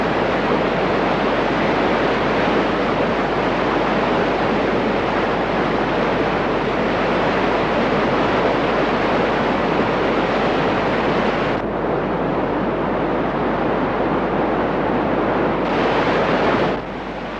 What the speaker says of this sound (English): After the water cascades over rocks, it froths up like a giant washing machine full of soap suds.